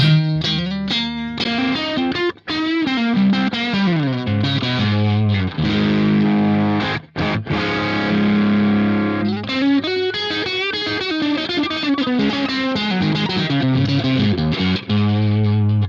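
Electric guitar played through a crunchy Bogner-style distortion tone from the IK Multimedia Tone Partner pack, loud riffs and sustained chords with gritty overdrive, continuous apart from a couple of brief breaks.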